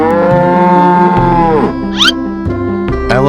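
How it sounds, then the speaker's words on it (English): A cartoon cow lets out a loud, drawn-out moo that wavers and fades, with short chirpy effects after it and a brief low bellow near the end; there is no talking. "Cow."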